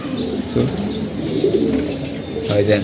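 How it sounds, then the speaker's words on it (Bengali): Pigeons coo in soft, low, repeated calls nearby, with a voice speaking over part of it. "আর এদিকে আমাদের কবুতর আছে"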